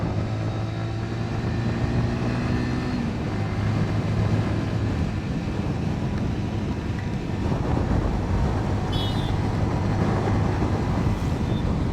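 Yamaha MT 15 V2 motorcycle ridden in fifth gear, a steady engine hum with faint harmonic tones beneath strong wind rush and road noise, continuous throughout with no talk.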